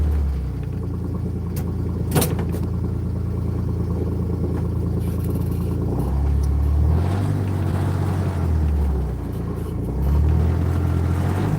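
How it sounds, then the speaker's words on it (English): A small ride-on toy car drives outdoors near a shed, its motor giving a steady low rumble with a few rises and falls as it moves and turns, close and continuous, with no talking. "I'm going to turn the car around now"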